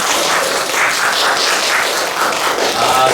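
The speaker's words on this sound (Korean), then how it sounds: "고생한 모두를 위해 박수!" An audience at a Korean elementary school team reading and debate championship final gives loud, sustained applause. The dense clapping keeps going steadily for several seconds.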